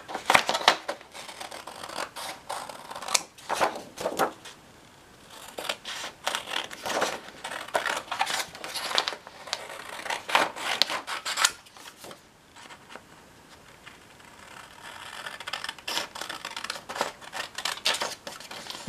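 Scissors snip around the branches of paper Christmas trees, a close, steady run of short crisp cuts and rasping paper strokes with brief pauses between bursts.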